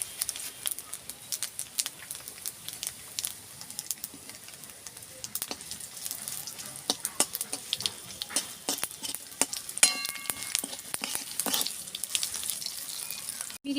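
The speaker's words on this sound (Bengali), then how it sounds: "এখানে ফোড়নও দেব। দেখুন, সর্ষে, অল্প সর্ষে, অল্প 5 ফোড়ন" Mustard seeds and panch phoron tempering sizzle and crackle in hot oil for a mango and mourala fish dish, a steady close frying hiss dotted with sharp pops and spits, heard alone without talk.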